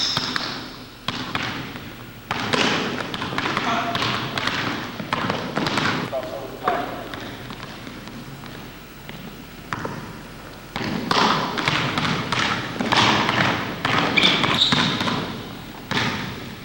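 Basketball dribbling during crossover drills, repeated thudding bounces with quick shifting rhythm on an indoor court, mixed under a coach talking throughout.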